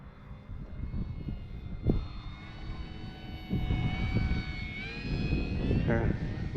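An Arrows RC Bigfoot model airplane flies overhead, its small motor whining and shifting pitch as it passes at moderate distance, with wind buffeting and someone talking throughout.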